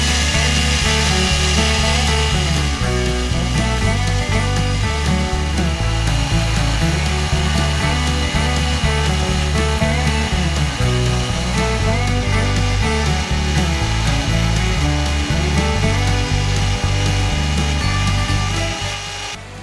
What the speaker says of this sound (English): With the belt sander I will trim the piece.